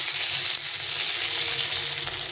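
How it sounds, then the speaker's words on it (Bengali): A rohu fish head frying in oil sizzles with a steady, loud crackling hiss that holds close and constant throughout, with no voices. "মাছের মুড়োটা ভাজতে দিয়েছি, একটু রুই মাছের মুড়ো"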